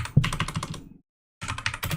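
Fast, close computer keyboard typing while coding, a dense burst of keystrokes that stops for a moment and then resumes in another quick run.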